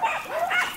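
Tiny pocket beagle puppies bark and yip at play, a quick burst of high, sharp yaps close by, without speech.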